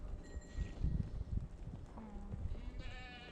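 Sheep in the Holy Land, kept by a shepherd, give a few bleats over a low rumbling outdoor background with shuffling hooves, moderately faint and mixed with other farm noise.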